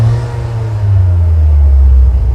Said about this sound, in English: Clutch in, bury the revs.